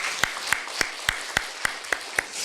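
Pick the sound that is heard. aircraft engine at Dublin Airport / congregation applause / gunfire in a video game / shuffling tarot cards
congregation applause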